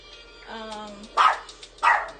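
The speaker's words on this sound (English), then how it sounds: "She's just barking." A chihuahua indoors gives two sharp, close barks after a short whine, loud and distinct in a quiet room.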